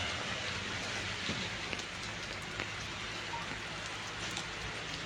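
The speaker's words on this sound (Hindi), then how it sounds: "अब बारिश हो रही है" Steady rain falls in Solan, a constant soft hiss of drops hitting surfaces that holds at an even, fairly faint level throughout, with no voices.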